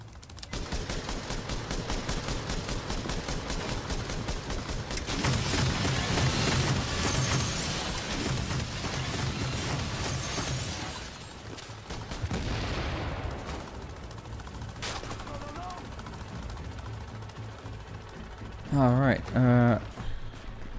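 Automated turrets fire during a firefight in The Division, loud sustained bursts of gunfire with heavy booms, fading toward the end before a short final burst.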